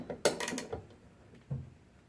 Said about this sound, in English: So you're going to loosen those up. These are the bolts that actually hold the spring